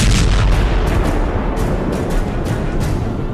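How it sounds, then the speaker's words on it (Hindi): A munition detonating during a test, heard as a loud, sustained explosive roar with rumbling low end and a few sharper crackling bursts, filling the whole stretch with no voices. "देखिए एक टेस्ट के दौरान जब इसके धमाके को रिकॉर्ड किया गया तो क्या क्या दिखा।"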